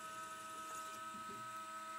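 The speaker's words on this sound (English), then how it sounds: "I'm drilling out to the pre-drill size for the reamer." A drill runs steadily on a small metal block, boring a hole out to pre-drill size for a reamer in a home machine shop, a constant faint whine with a sustained tonal hum and no talk.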